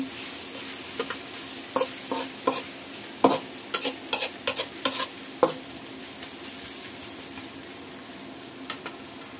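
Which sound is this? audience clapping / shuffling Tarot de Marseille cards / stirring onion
stirring onion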